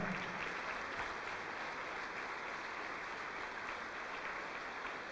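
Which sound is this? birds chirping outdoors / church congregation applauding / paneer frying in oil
church congregation applauding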